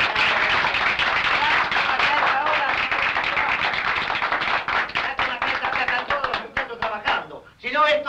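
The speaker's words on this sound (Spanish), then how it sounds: "¡Aplausos por el compañero Barrera!" A crowd at a political rally applauds for comrade Barrera, dense, sustained clapping close and loud that thins into scattered individual claps over several seconds.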